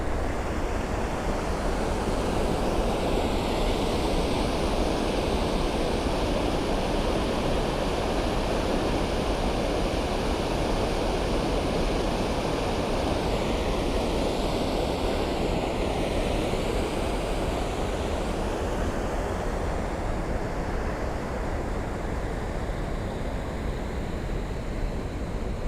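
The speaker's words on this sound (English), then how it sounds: "I just love the sound of running water." Running water at Fort Augustus by Loch Ness rushes as a loud, continuous broadband wash, steady and close, with some wind buffeting the microphone.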